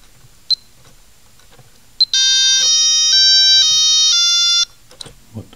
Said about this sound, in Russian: потом повторяется через 5 минут, будильник выключается кнопкой 2